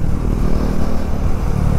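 KTM Duke 390 motorcycle exhaust during a highway drag race, a loud, steady low engine roar held close throughout with no talk over it.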